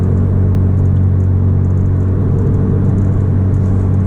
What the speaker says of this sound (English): the tune, the intake, and the exhaust, it really like wakens it up